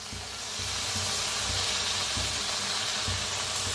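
Karadi (safflower) greens hiss and sizzle steadily as they drop into a hot pan of roasted lentils, with faint rhythmic low thumps of stirring beneath.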